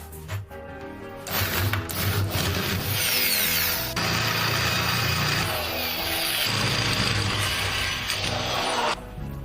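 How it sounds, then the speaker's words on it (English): A drill boring a hole in preparation for a threaded insert in a cylinder head runs loud and steady for several seconds, with a sharp start and stop at either end. "first you need to drill a hole."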